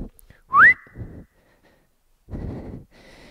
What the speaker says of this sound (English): Probably shouldn't be whistling on a YouTube video.